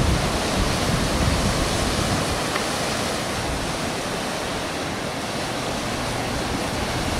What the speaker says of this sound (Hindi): और उनसे टकराता हुआ पानी।